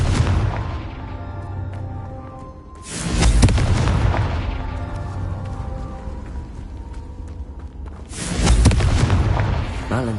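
A Confringo fire spell bursts in Hogwarts Legacy on PS5 with two loud, booming blasts, one near three seconds and another near eight, each decaying into a rumbling tail over a steady low game soundscape.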